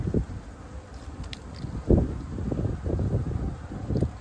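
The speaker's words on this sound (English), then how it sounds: "But I see a bunch of bees going in, and I don't see a ton coming out" Honeybees at a hive in early spring, a steady low buzz of many insects close to the microphone, with wind rustle and no talking.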